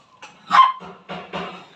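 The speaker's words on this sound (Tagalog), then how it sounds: "Ang gaganda ng tuta, oh." Puppies barking in a few short yips and barks, close and fairly loud, a couple of bursts in quick succession with brief gaps.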